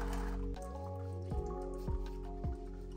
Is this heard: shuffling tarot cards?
no